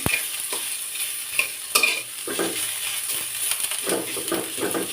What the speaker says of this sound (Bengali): পেঁয়াজটা শুধু তেলের সাথে একটু নাড়াচাড়া করে নেব